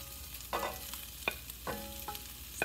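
Pork and sausage frying in a pan as a utensil stirs and scrapes them, a few distinct scraping strokes over a quiet sizzle, close by with no talking.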